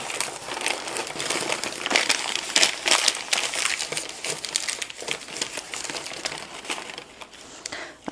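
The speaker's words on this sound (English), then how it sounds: "push it all up in one area, wrap it, fold it down, and then tape it" Packaging for shipping plants is wrapped and folded, producing close, sustained crinkling and crumpling with sharper crunchy bursts throughout and no speech.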